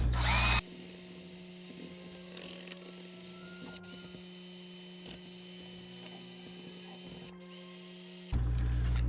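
A drill mixes epoxy crack fill, probably with a paddle in a bucket, running as a steady mechanical whir with a low hum for about eight seconds. Louder noise at the start and end frames the run.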